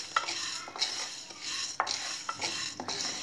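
Chana dal dry-roasting in a pan over a low flame, with a steady dry rustle broken by repeated scraping stirs at regular intervals. No one speaks.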